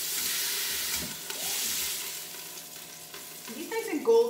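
Chicken browning in a pan gives a steady close sizzle and frying hiss throughout, with a few scraping and clinking utensil sounds toward the end.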